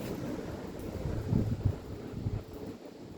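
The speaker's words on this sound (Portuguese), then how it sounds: "Fica aí esse vídeo aí de Franca, ventania forte, pessoal." Strong gusty wind during a storm in Franca, São Paulo, roars steadily across the microphone, a low rumbling buffeting that swells briefly near the middle before easing, with no talk.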